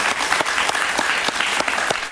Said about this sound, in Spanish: yo pido un cariñoso aplauso para ella